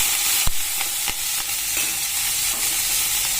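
Fenugreek leaves stirred as they fry in a pan make a constant close sizzle, broken by several sharp clicks of a spoon against the pan at uneven intervals, with no one talking.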